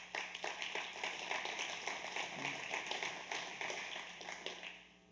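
A crowd at a men's breakfast event claps for several seconds in a dense, even patter of applause, at a steady, moderate level with no speech.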